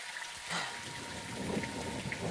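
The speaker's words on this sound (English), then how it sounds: "It's raining fucking hard." Heavy rain pours steadily in Call of Duty: Modern Warfare II, a dense close hiss of drops with a low rumble underneath and no voices.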